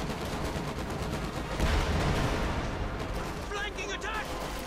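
A zeroing artillery barrage in the video game Company of Heroes 2 rumbles as a dense, continuous roar of shell blasts and gunfire, loud and sustained, with faint tonal game sounds near the end.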